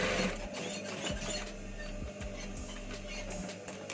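A sewing machine runs along the side seam of a collar, giving a continuous mechanical whir with regular ticking beats throughout, fairly close and steady with no voices.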